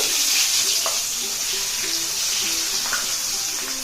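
Large onion pieces sizzle in the same hot oil used to fry Koramenu river fish pieces, a steady close frying hiss with faint watery crackle running throughout.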